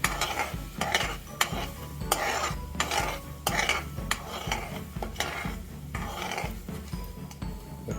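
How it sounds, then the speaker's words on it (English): White radish sautés in a pan with a utensil scraping and stirring in a steady rhythm, clinking against the metal over a continuous sizzle, heard up close with no talking. "And saute a little until it changes the color slightly."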